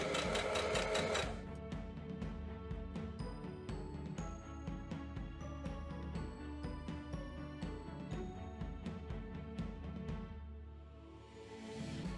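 A sewing machine stitches a curved fabric seam in quick bursts of rapid needle ticks, with short pauses as the fabric is guided around the curve.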